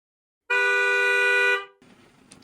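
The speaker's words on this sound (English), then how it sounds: "a loud honk shattered the silence" A single loud car horn blast, a steady held honk lasting about a second that cuts off sharply, followed by a faint rumble.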